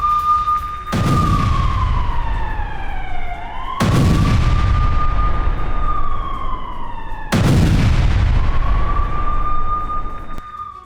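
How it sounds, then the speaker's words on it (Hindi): A Russian Msta-B howitzer fires three heavy blasts roughly three seconds apart, each a loud sharp boom with a long rumbling decay, while a steady whining tone runs underneath. "रूस का मास्टर बी हॉवित्जर तोप से हमला"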